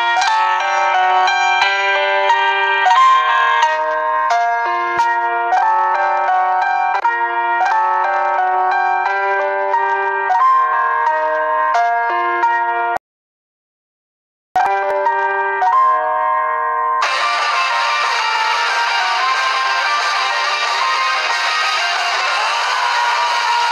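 A chiming, bell-like musical jingle opens a gaming channel episode on Sonic 3 & Knuckles, playing loudly and alone with a steady melodic pattern, breaking off briefly into silence before resuming with a fuller, brighter burst.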